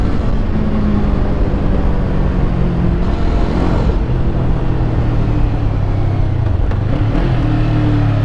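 Kawasaki Eliminator 450 motorcycle pulling hard in second gear uphill, its engine note rising under heavy wind rush, loud and close throughout with no talk.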